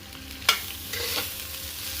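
Soya bean roast frying in a hot pan and being stirred, with a sharp scrape of the spoon near the start and softer stirring scrapes later over a steady low sizzle, no talking.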